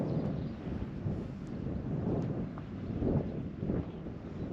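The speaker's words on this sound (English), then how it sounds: "There's a fairly strong wind blowing, so I'm not going to hang around too long." Strong wind gusting across an exposed Lake District fell, a steady low roar with surging swells buffeting the microphone throughout, no voices.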